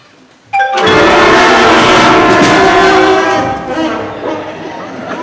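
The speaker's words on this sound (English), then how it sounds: "produce the first sound on our instruments. It sounded something like this." Fourth-grade band students play their first notes on band instruments, bursting into a loud, discordant blare of sustained brassy tones that holds, then thins slightly toward the end.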